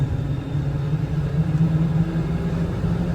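Ford F550 4x4 bucket truck with a 6.7 Powerstroke turbo diesel accelerating, heard from inside as a steady, loud low engine rumble and drone that holds evenly throughout.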